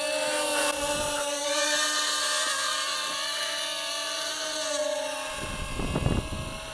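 A Hubsan X4 H107L nano quadcopter drone hovers nearby, its tiny propellers giving a steady high-pitched whine that holds evenly throughout, with brief rustling bursts near the start and end.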